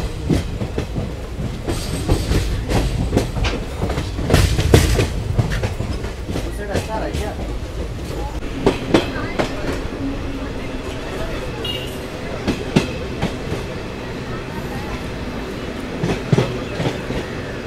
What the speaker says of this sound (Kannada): ನಮ್ಮ ಯಶವಂತಪುರ ಚಿಕ್ಕಮಗಳೂರು ಎಕ್ಸ್ಪ್ರೆಸ್ ಸದ್ಯಕ್ಕೆ ತಲುಪಿದೆ ತಿಪ್ಟೂರು ರೈಲ್ವೆ ಸ್ಟೇಷನ್ಗೆ